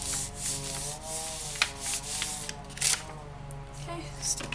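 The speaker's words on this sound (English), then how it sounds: "give this a very gentle burnish, not enough to flatten out the texture on the back" Soft, repeated rubbing strokes of a gentle burnish on textured polymer clay for a cherry tree necklace, a light scraping rhythm in short bursts, with a faint voice underneath.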